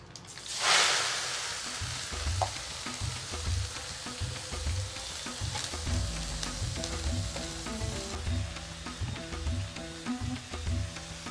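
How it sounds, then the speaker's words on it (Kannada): Washed amaranth stem greens hit hot oil in a tempering pan with a sudden loud hiss, followed by steady close sizzling and frying crackle and rhythmic stirring scrapes, with no talk. "ದಂಟಿನ ಸೊಪ್ಪು ಹಾಕ್ತಾ ಇದ್ದೀನಿ."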